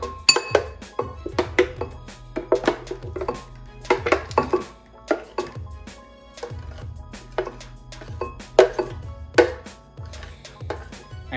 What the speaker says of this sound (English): we're just gonna dip all of it out into the bowl